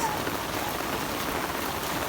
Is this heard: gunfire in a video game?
no